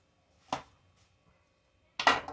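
Two sharp knife strokes cutting pre-cooked ham into strips, each a short, crisp chop on a board with quiet gaps between them.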